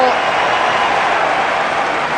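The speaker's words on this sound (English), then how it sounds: "The crowd are getting involved." Crowd at a Pakistan v South Africa Test cricket match applauding a boundary, a steady, broad roar of clapping and cheering that stays loud throughout.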